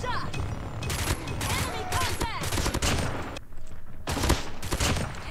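Burst SMG gunfire in Call of Duty Mobile, with rapid clusters of shots repeating through the clip amid other game noise and occasional talk from players.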